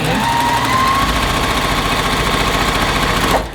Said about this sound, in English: I'm just going to sew them together using a 1/4 inch seam